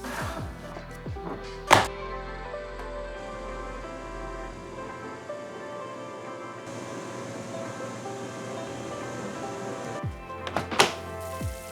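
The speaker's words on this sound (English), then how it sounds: "Our Combi Cooker is preheated, so let's add our lasagna." Two dull thunks mark a lasagna going into a preheated Combi Cooker oven, one as the pan goes in and another near the end, with a low hum and faint handling noises between them.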